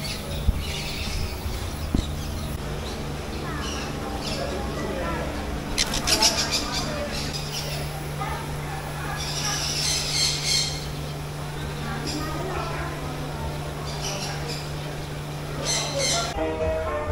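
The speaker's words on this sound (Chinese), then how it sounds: "鹦鹉。" Parrots squawk in a bird aviary at a Bangkok theme park, harsh repeated calls rising above a steady hum and crowd murmur while a person talks nearby.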